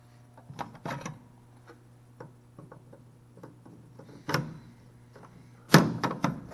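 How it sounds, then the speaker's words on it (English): Flux core wire drive rolls slid onto a Millermatic 252 welder and locked with a knob make soft metallic clicks and knocks, ending in a couple of sharper clunks near the end. "When I put these on, slide them in, turn that knob to secure them."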